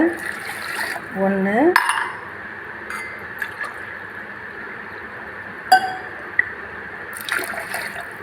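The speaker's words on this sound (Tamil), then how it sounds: "இதுக்கு மூணு டம்ளர் அதில் முந்நூறு மில்லிகிராம் நம்ம தண்ணி சேர்த்துக்கலாம்" Water is poured into a pot in short bursts for fenugreek and garlic rice porridge, with splashing and the clink of metal utensils, while a person counts aloud quietly.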